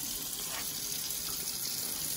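Hot water running steadily from a tap, a continuous broadband hiss and splash that stays even and fairly close without pauses.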